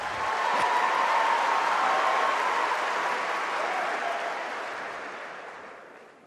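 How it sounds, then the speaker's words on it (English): Tennis spectators on Wimbledon's Centre Court burst into broad cheering and applause, a dense wash of clapping that holds strong and then slowly fades away. "That was a very young voice cheer around centre court"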